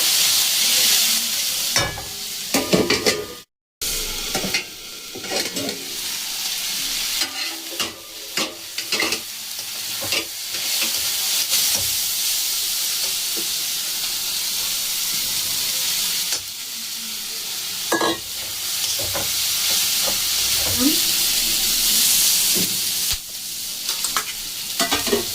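Snails (gedi) with tomatoes frying in a pan, a steady loud sizzle and hiss with repeated scraping stirs throughout.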